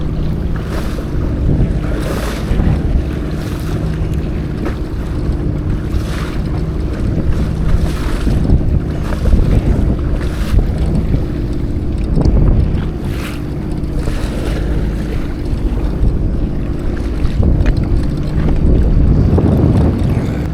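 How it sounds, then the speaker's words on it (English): A FishPro Scout fishing boat trolls into big three-foot waves on Lake Winnebago, its engine droning steadily under loud wind buffeting and water slapping and crashing against the hull throughout. "Like I'm just driving, I'm just trolling right into them. These suckers are huge, they're at least 3 feet"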